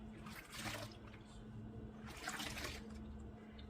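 A hair brush dipped into water while applying dye to a straight HD wig closure, giving two soft splashy swishes about two seconds apart over a quiet background hum.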